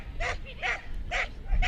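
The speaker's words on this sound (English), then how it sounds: "4-year-old working sheepdog. First agility dog. So she's very noisy all the way around the course." A four-year-old working sheepdog barks repeatedly while running an agility course in a main show ring, giving four loud, evenly spaced barks over steady background noise.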